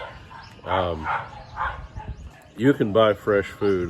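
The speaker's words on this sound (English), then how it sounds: "the dogs are barking" Dogs bark and yip a few times in a Philippine home setting, sharp repeated barks mostly in a burst toward the end, partly overlapping someone talking nearby.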